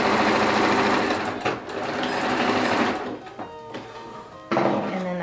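Sewing machine stitching a sweater seam: loud, fast, steady mechanical whirring that pauses and starts again, with brief knocks between runs, heard up close.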